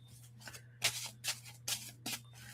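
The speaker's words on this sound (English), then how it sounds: "Let me just shuffle again." Tarot cards are shuffled during a live reading, making several short, quiet riffling bursts spaced about half a second apart over a low steady hum.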